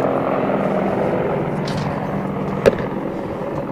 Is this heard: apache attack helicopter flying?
yes